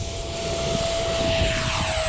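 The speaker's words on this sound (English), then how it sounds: "So I kind of wind up the motor a little bit" A Sirius electric model airplane throttles up to full power for takeoff, its motor whine and propeller buzz holding loud and steady with a bright constant tone, accompanied by rushing air and wind noise.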